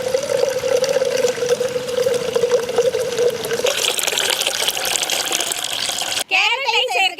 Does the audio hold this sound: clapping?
no